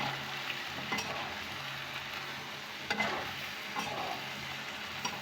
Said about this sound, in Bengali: আস্তে আস্তে কষায় নিচ্ছি